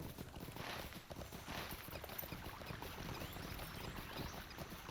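Horse hooves clip-clop steadily at a riding pace in the Lord of the Rings Online video game, a dense continuous patter of hoofbeats with a faint wash of ambient noise behind, no talking.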